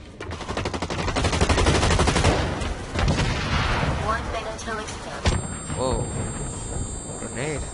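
Grenade blast in the shooter game Blacklight Retribution, landing close amid dense automatic gunfire, followed by a sharp burst near the five-second mark and scattered shots continuing.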